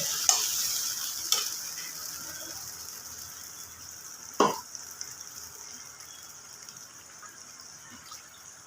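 Potatoes frying with spices in a pan on a low flame, a soft sizzle interrupted by a few sharp spatula scrapes and clinks against the pan, close and quiet, with no talking.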